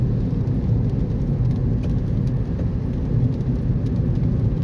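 Steady rain falls during a rainy-season drive on the road from Rattanaburi to Samrong Nong Ka in Sisaket, Thailand: a loud, even hiss of rain and spray over low vehicle rumble, without voices.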